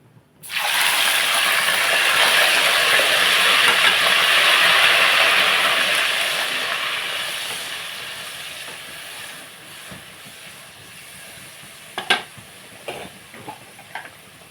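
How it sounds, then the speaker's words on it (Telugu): Onion-tomato paste and green chillies hit hot oil with a loud, broad sizzle that swells at first and gradually softens over several seconds, followed near the end by a few sharp clicks and taps. "ఆయిల్ హీట్ ఎక్కినదండి ఇదిగోండి ఉల్లిపాయ టమాటా పేస్ట్ పచ్చిమిర్చి వేసేసుకుందాం"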